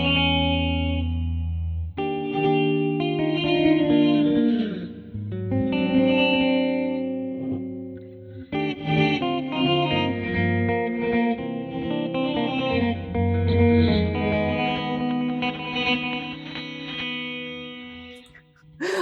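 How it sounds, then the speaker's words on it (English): An electric guitar plays sustained chords and melodic lines through a Red Panda Context V2 pedal's forward reverb, drenched in a swelling, washy reverb that blooms around each note, with no talking. "let's hear it with the forward reverb blended in."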